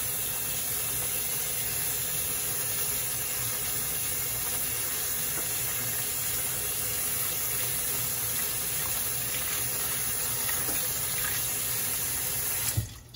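Running water steadily washing sea moss in a metal bowl, a continuous close splashing and hissing stream that barely changes for the whole stretch and ends with a brief clatter.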